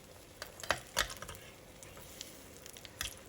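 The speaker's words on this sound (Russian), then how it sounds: "Чтобы баклажаны обжарились до нежно-золотистой корки, крышку сковородки не закрываю" Soft sizzling of eggplant slices frying in an uncovered pan topped with a splatter mesh, punctuated by a few light clicks and taps of utensils.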